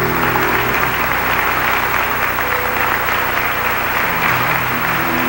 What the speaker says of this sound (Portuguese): Pode aplaudir para Vanir.